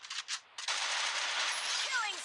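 Dense automatic gunfire from the battle-royale game Free Fire, a sustained loud burst following a couple of short shots, with faint game effects trailing at the end.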